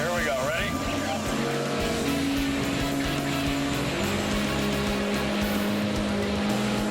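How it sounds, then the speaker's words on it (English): The steady, droning engine of a Seabreacher dolphin boat as it dives in and out of the water, running continuously under people talking. "the act of making the dolphin boat dive in and out of the water is the hardest part of driving"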